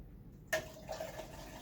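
Water swirling and draining in a spinning vortex from an upturned bottle, a sudden gurgling splash and then a quiet trickling flow, close and faint.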